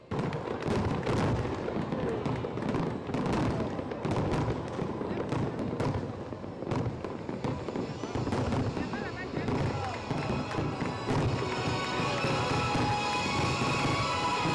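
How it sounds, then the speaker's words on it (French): Fireworks display over the Ébrié lagoon in Abidjan during a 25-minute show, a rapid barrage of loud bangs, crackles and booms in dense bursts, with crowd noise and voices underneath. "Le feu d'artifice qui a été fait, franchement, ça nous a fait plaisir"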